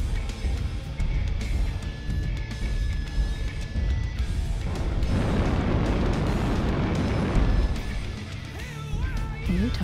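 Explosions from destroyed targets in MechWarrior Online rumble and burst in heavy, booming waves, loud and sustained with crashing debris and scattered pops.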